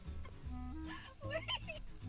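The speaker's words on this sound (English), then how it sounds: "Oh god, that's a duck." Bird clucking and honking, either a duck or chicken, a short, close burst of nasal calls over a low background.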